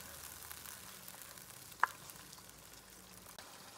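Chicken karahi pieces fry on a medium-high flame while a spoon stirs them, a soft continuous sizzle with one sharp clink of the spoon midway and faint scraping, no voices.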